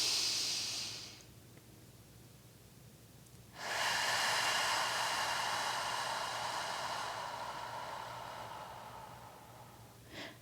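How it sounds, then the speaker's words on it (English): Deep three-part yoga breathing during a pranayama session: one soft breath fades out in the first second, then after a pause a long, loud, airy breath rises and tapers slowly over several seconds, close to the microphone. "paying attention to that deep 3-part yoga breath"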